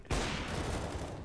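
Rapid gunfire in the video game Counter-Strike, a dense burst of overlapping shots starting abruptly and continuing steadily for about a second, loud and close.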